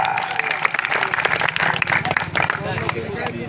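An audience claps at a kusti wrestling match held on a village ground, with a burst of applause continuing under loud, steady announcer speech.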